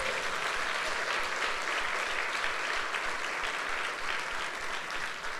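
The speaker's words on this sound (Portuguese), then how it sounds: "É só dizer amém e dar um aplauso a Jesus." A church congregation at a Sunday service bursts into steady, sustained applause, a dense wash of many hands clapping together, fairly distant and even, with no voices rising above it.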